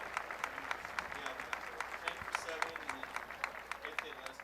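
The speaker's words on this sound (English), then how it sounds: "Nice applause for the crowd here, from the crowd here at Alumni Stadium." Crowd applause ripples through Alumni Stadium at a women's college soccer match between Milwaukee and Notre Dame, a steady, moderately distant wash of clapping with a commentator's voice talking over it throughout.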